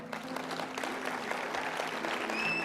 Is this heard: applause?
yes